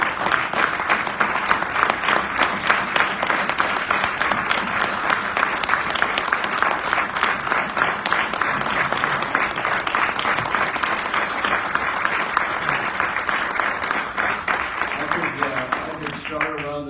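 A crowd gathered at an Ohio historical marker dedication for CompuServe gives its staff a sustained round of applause, dense, even clapping continuing for well over fifteen seconds, with faint voices underneath as it winds down.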